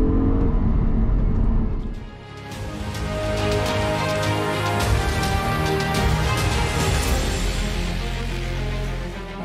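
A naturally aspirated V10 in an Audi R8 Spyder drones loudly and continuously through the clip, with a slight dip before it builds again into a sustained, strong engine roar.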